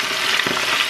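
Steady, bright sizzling of squid frying in very hot oil, close and continuous with no talking.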